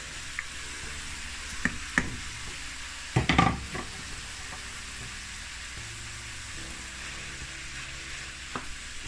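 Mushrooms and other vegetables stir-frying in a pan at close range, a steady sizzle broken by a brief louder clatter of ingredients and utensil stirring.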